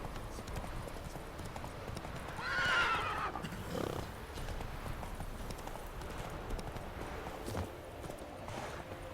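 Roach, a horse in the video game The Witcher 3: Wild Hunt, gives one clear whinny amid steady clip-clop hoofbeats and faint background ambience.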